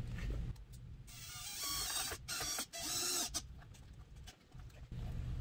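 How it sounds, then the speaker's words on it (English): A Phillips bit drives a 1-inch number 10 screw through an OEM dimple to secure a fender bracket on a 2017+ Can-Am Maverick X3, giving a close, loud, whirring mechanical run broken by short pauses and bursts. "grab our 1-inch number 10 screw and a Phillips head bit, and we're going to use the OEM dimple right here and secure the second bracket"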